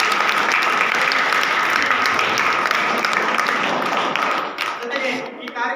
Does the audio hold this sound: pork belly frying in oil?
no